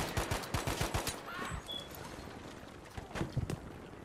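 Enemy gunfire in the multiplayer shooter Battlefield V: a rapid burst of close, sharp shots opens, with scattered single cracks later and a brief whistling tone in the middle.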